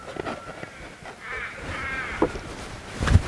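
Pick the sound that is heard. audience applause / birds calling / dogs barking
birds calling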